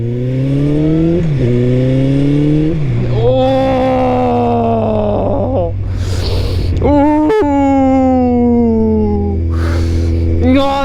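A loud Honda X-11 motorcycle with an aftermarket exhaust revs up repeatedly, pitch rising and falling in a throaty, aggressive roar with short crackling bursts between revs.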